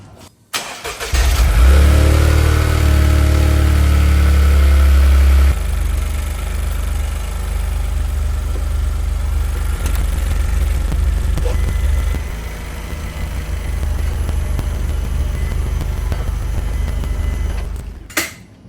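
A Toyota GR Corolla engine cranks and catches, roaring loudly at first, then settles into a steady, rumbling idle that runs close by for the rest of the clip.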